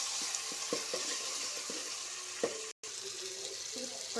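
Ginger garlic paste frying in a pan with tomatoes, a steady bright sizzle with soft intermittent stirring taps and a brief sudden dropout near the end.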